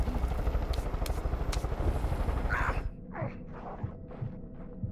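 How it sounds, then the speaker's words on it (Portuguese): A helicopter burns in the video game Far Cry 5: a loud, steady rotor throb with rapid chopping pulses, cutting off abruptly partway through to quieter scattered game sounds. "por que que meu helicóptero tá pegando fogo?"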